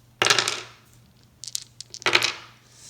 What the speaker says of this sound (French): le joueur dont c'est le tour va commencer par attaquer avec les dés rouges